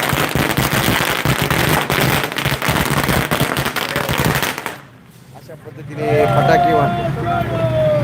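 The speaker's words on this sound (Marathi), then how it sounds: "फटाके लावून फटाके फोडून या ठिकाणी हा स्वागत समारंभ करण्यात येत आहे" A string of firecrackers bursting at a welcome ceremony for a Sadbhavana Yatra held by the Rotary Club of Karjat City, a loud, rapid, dense crackle for several seconds that stops abruptly, followed by voices.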